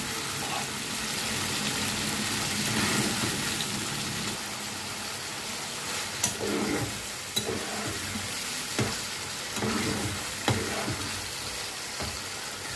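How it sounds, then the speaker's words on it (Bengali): Finely minced chicken frying over medium heat in a pan for restaurant-style fried rice, a continuous loud sizzle broken by several sharp scrapes and clacks of the stirring utensil against the pan. "চিকেনগুলো মিডিয়াম আঁচে ভেজে আমি তুলে নেব।"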